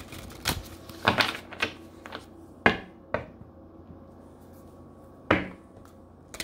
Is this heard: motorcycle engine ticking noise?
no